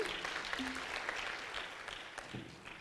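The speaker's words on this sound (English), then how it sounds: "Another round of applause for Commission 1." Audience applause at a biodiversity economy and investment conference session, a faint, steady patter of many hands clapping in a large hall, heard at a distance with a few brief voices underneath.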